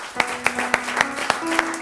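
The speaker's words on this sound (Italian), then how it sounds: "Io voglio il vostro applauso per il maestro Domenico Di Mauro" Television studio audience claps for the painter Domenico Di Mauro, with steady applause punctuated by several sharp, evenly spaced louder claps close to the microphone.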